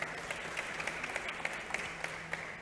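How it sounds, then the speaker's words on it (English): An audience at a fireside chat on digital trade applauds to welcome a speaker, a steady, moderately faint patter of many hands clapping without pause. "Please let's give her a warm round of applause."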